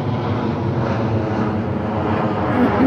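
A fixed-wing airplane passes overhead, its engine drone a steady, fairly loud low rumble held throughout with no voices over it.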